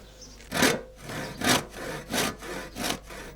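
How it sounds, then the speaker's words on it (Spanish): A hand saw cuts wood for the pegbox of a handmade rabab, five steady rasping strokes in an even back-and-forth rhythm, close and clear with no voices. "Con el serrucho o serrote, Tomás da un corte en la marca que ha dibujado para el clavijero"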